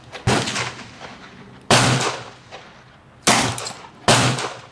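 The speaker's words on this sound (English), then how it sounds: "One more shot." Four sharp revolver shots from a .38 Colt New Police firing short .38 Special squib loads, each loud blast followed by a fading ring, spaced irregularly about one to two seconds apart with no talking.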